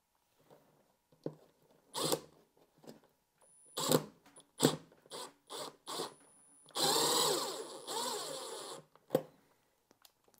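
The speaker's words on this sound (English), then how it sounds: "We use a Phillips on our Milwaukee driver, and slowly we place those screws in." Milwaukee power driver with a Phillips bit sinking screws while mounting a dimmer switch: short separate bursts of whirring, then a longer sustained run near the end, close and loud with no talk.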